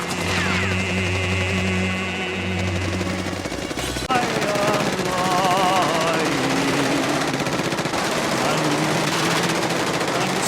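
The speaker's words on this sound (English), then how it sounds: "but that Tommy gun scene?" Tommy gun fire from a Miller's Crossing film scene, with loud rapid bursts and heavy clatter layered over a droning score, a sharp break in the sound midway, then dense continuous firing and ringing tones.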